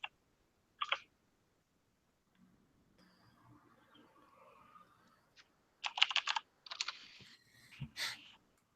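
Scattered clicky keystrokes, a few isolated taps then a quicker burst of typing, fairly close and crisp with quiet pauses between.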